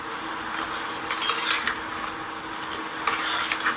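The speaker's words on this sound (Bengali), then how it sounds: "খুব সুন্দর করে লাল লাল করে ভেজে নেব" Small semolina balls for suji laddu fry in hot oil with a continuous crackling sizzle, punctuated by occasional metal utensil clinks against the pan.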